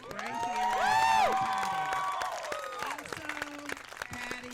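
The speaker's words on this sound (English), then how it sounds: "Everybody give her a huge round of applause" A crowd applauds and cheers for a handler and her dog, winners of the PSA Level 3 world championship in protection and obedience. The clapping is loud and sustained, with some whoops and shouts mixed in.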